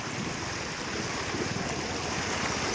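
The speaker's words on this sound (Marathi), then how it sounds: "भलं मोठं पाणी आलंय पोरा" Heavy floodwater rushing after intense rain near a village, a steady, dense roar of flowing water throughout, loud and continuous with no voices.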